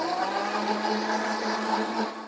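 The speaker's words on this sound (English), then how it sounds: "Break out the blender" A kitchen blender whirs continuously, blending ginger and garlic into a paste for cabbage pakora, a steady close motor drone with a strong low hum lasting a couple of seconds.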